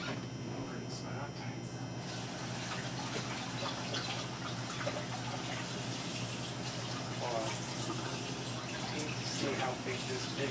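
Water runs steadily from a kitchen tap while something is rinsed during meatloaf preparation, a continuous hissing flow with faint clatter, close and moderately loud throughout.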